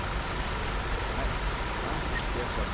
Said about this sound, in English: God, it's quite loud, isn't it, with the rain?